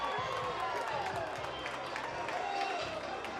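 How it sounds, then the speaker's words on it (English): A Troy baseball crowd cheers after a triple, a steady wash of applause and cheering from the stands, moderately loud and sustained. "Gets this Troy crowd going."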